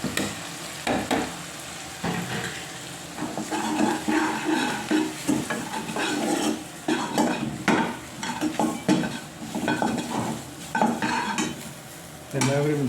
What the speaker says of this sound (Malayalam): ഇതെല്ലാം കൂടി മിക്സ് ചെയ്യുന്നു.